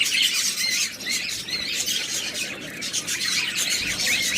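Pigeons call close by in a steady chorus of squawks and chirps, overlapping and continuous with no voices.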